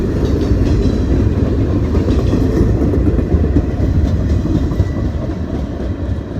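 A westbound CSX military container freight train rumbles past close by, a loud continuous roar of rolling cars and wheels with steady rail clatter and no pause.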